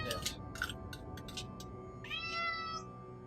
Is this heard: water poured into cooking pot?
no